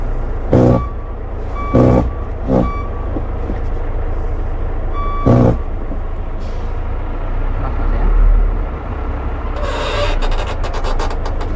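A Hino FM 260 truck mixer sounds its reversing alarm in a few loud, evenly spaced beeps over the truck's low idling rumble, with a hiss of air near the end.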